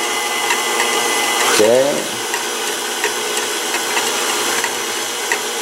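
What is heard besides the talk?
KitchenAid stand mixer whipping cream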